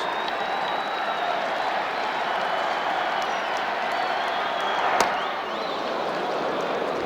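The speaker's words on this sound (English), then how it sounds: "This crowd here is something. They react on every pitch." A packed crowd at Game 1 of the 1991 World Series between the Braves and Twins roars and applauds steadily, a loud sustained wall of noise with a brief spike of cheering near the end.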